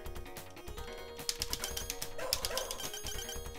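A dog barks in short bursts in the Shadow Dancer arcade game, mixed into busy electronic music and game effects.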